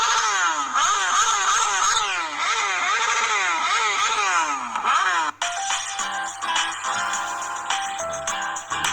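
A motorbike engine revs hard and loud in repeated rising and falling surges, then settles into a steady, gear-shifting drone close by.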